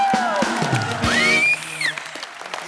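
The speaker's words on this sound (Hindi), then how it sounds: "और उर्वशी की मम्मी जी के लिए और जोरदार तालियां" A brief burst of clapping from a TV comedy studio audience, mixed with crowd noise and a rising whistle-like tone, lasting a couple of seconds.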